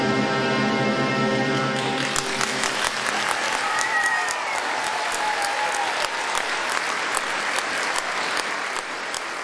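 Applause from a large audience after a ballet performance: a dense, steady roar of clapping that stays strong throughout, with a few faint cheers.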